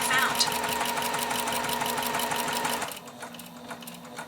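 A sewing machine stitches a quilt block with a steady fast whirring hum that stops near the end, and a voice talks over it.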